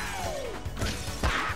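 Two sharp crashing smashes of breaking glass in quick succession in the iOS game Angry Birds Transformers, with a descending electronic whistle before them, set against a background hum.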